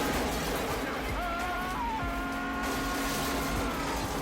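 A car chase from Lethal Weapon 4, with Murtaugh and Riggs driving through a building: a loud, continuous engine roar with a short, rising tire squeal partway through.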